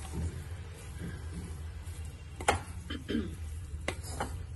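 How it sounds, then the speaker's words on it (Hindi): Fenugreek leaves stirred into potatoes in a pan, heard as a soft steady sizzle with a few crisp spoon scrapes and knocks against the pan, close and fairly quiet. "अच्छे से इसको मेथी को मिक्स कर देंगे आलू के"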